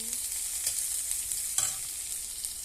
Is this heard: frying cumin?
yes